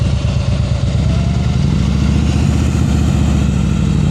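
A motorcycle engine runs close by during slow-speed riding practice, a steady mid-pitched thrum at low revs that holds an even, loud level throughout with no talk over it.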